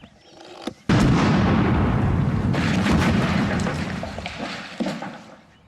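Explosion set off with a length of wire and a plunger: a sharp click, then a sudden loud, close boom that roars and rumbles with debris for several seconds, a second crack following as it fades.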